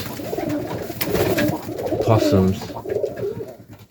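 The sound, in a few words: Serbian Highflyer pigeons cooing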